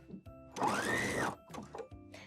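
A sewing machine stitches a zigzag to attach elastic onto a bodysuit, a fairly quiet run of rapid mechanical whirring lasting under a second, then short stop-start bursts of stitching.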